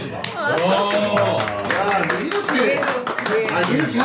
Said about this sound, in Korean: 이거 뭐 박수합시다